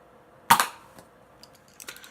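A Nerf Jolt blaster fires a Zombie Strike dart with one sharp, loud snap, then faint light clicks and a small rattle.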